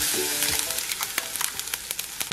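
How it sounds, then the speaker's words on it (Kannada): Mustard seeds and cumin sizzle steadily in hot oil, with many quick crackling pops and spits spread across the clip at close range, making chutney seasoning. No one speaks. "ಅದಕ್ಕೆ ಸ್ವಲ್ಪ ಸಾಸಿವೆ ಜೀರಿಗೆ ಹಾಕ್ಕೊತಾ ಇದ್ದೀನಿ."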